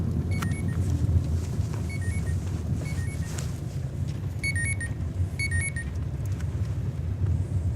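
A taxi drives along with a steady low engine and road rumble from inside the cab, while repeated electronic beeps chirp in short bursts over it and no one speaks.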